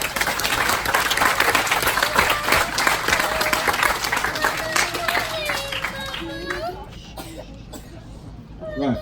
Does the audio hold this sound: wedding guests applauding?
yes